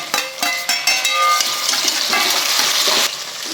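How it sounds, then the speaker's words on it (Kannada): Tomatoes and onions sizzle in a pan for vegetable pulao, a steady close hiss with crackle, broken by a few sharp metallic clinks near the start and no voices. "ಈಗ ಟೊಮೊಟೊನು ಫ್ರೈ ಆಗ್ತಾ ಇದೆ"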